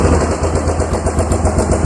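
A Yamaha Big Bear ATV engine runs steadily in reverse, a loud, close, continuous chugging idle with a low throbbing pulse and no talk over it.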